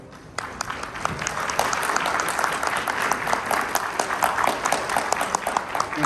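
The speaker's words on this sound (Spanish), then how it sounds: "para el cual pido un fuerte aplauso" A hall audience breaks into steady, sustained applause welcoming a speaker at a conference panel, with many hands clapping at moderate volume and crisp individual claps standing out.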